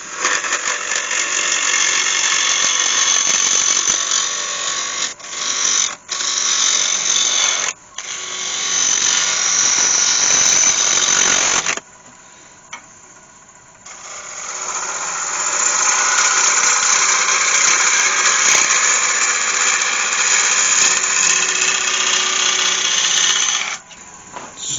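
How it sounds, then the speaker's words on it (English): Sandpaper works a lidded cherry and ash wooden bowl spinning on a lathe, giving a loud, steady broadband hiss that runs for long stretches with a motor whine beneath, broken by brief gaps and a quieter pause partway through. "Just sand that down."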